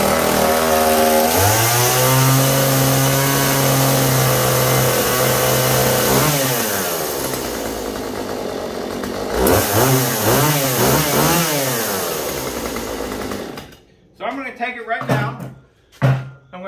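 A Poulan Pro 4620 chainsaw with its stock muffler starts and runs, rising to a high steady whine, dropping back to idle, then revving repeatedly in sharp bursts before sputtering down, with voices talking over parts of it.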